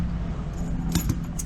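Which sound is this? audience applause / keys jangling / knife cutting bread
keys jangling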